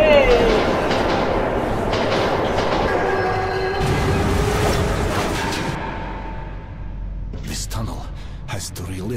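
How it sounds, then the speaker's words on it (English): A ghost train in the Metro 2033 video game rumbles and clatters through a tunnel, a loud, sustained rolling roar with metallic squeals that fades out near the end, followed by a few sharp clicks. "Ghost train, yay!"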